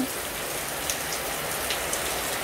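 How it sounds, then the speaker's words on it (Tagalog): Steady, dense rain pattering on a surface, a continuous close wash of droplets with no voices. "Itong ulan."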